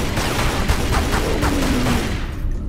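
Gunfire in the video game Tomb Raider Legend: a dense, continuous rattling volley of shots lasting a couple of seconds, loud and steady, then cutting off abruptly.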